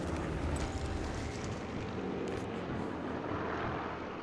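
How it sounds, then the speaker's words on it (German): Warplanes roar overhead in the video game Sniper Elite 4: a loud, steady, broadband engine drone that fills the whole stretch without letup, and no talk is heard. "Oh, da kommen die Flieger wieder."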